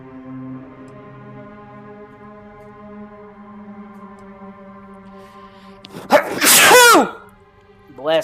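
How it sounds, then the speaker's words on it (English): A single loud, explosive sneeze bursts out in the game Starfield after a long stretch of quiet, steady background hum. "How hard can you sneeze?"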